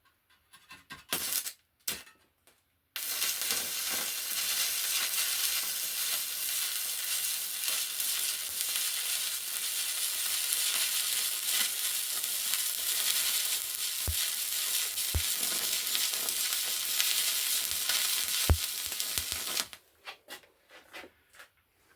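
Arc welding on a classic car exhaust with a stainless steel rod: a steady, close crackling sizzle that runs for about seventeen seconds, with a few short bursts before it and sharp pops and pings along the way.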